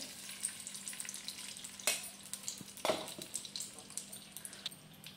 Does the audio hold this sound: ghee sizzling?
yes